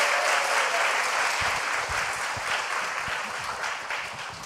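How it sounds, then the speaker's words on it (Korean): Church congregation applauding to welcome new members at a baptism and new-family graduation service; dense, steady applause fills the hall throughout, loud and continuous, easing slightly toward the end. "박수로 다시 한번 환영하겠습니다."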